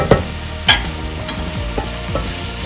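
Onions and a few cloves of garlic sauté in a hot pan, a continuous sizzle broken by occasional clattering stirs of a utensil against the pan.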